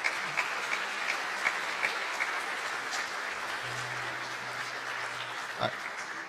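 An audience applauds a singer at a noon swing band concert in Sacramento, a steady, moderately distant round of clapping from a modest crowd, lasting throughout.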